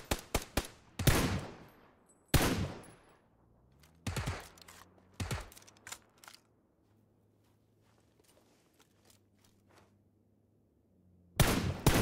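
Gunshots ring out in the video game PUBG, sharp loud cracks in quick clusters of several shots, then a long stretch of quiet footsteps and faint movement before another close volley of shots at the end.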